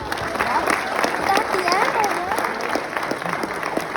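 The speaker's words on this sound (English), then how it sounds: "Give yourselves a round of applause" Wedding guests applaud during the speeches, a steady patter of clapping from a room full of people with voices chattering over it.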